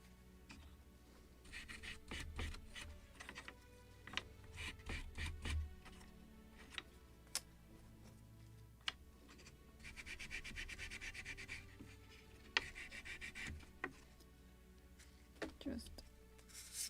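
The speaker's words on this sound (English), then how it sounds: "and then just sweep it with Scotch Brite" Scotch-Brite pad rubbing and sweeping over wooden model hull planking in short scratchy strokes, quiet and close, with brief taps and pauses between passes.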